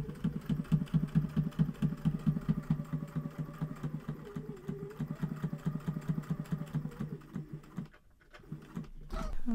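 A sewing machine stitching a shaker pocket for a library card, a close rapid mechanical chatter of needle strokes running steadily for about eight seconds, then stopping with a few clicks and handling noises.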